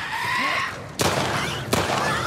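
Two sharp gunshots from a firearm in The Last of Us Part 2 Remastered, cracking out about three quarters of a second apart over quiet ambient game sound.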